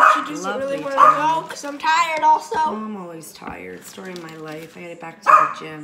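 A pet dog barks and yips repeatedly in a home kitchen, the barks mixed in with a person talking steadily over them.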